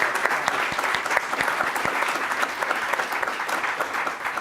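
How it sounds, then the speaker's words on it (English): An audience at a maritime robotics forum's closing session breaks into a big round of applause, dense and continuous with scattered sharp claps, fairly loud and steady, with no talk over it. "Will you join me in a big round of applause for Sherry and Janelle and Hitesh and Juliana"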